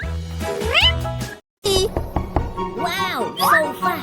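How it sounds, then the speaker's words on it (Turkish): A cat meows several times in rising and falling cries, close and fairly loud, with a short silent gap in the middle. A child-like voice talks around and between the meows. "Jane, sanırım senin kediciğin benim olmak istiyor."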